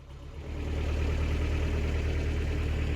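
Diesel engine of a canal narrowboat on the Lancaster Canal running at a steady, moderate throttle, a close, continuous low rumble with a faint knocking texture throughout.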